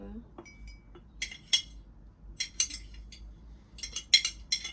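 A metal spoon clinks repeatedly against a cup while coffee is being made at home, light bright taps in short clusters, close and fairly quiet over a low background hum.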